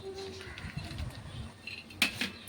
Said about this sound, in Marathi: आता त्या तुपामध्ये आपल्याला काजू टाकायचे आहेत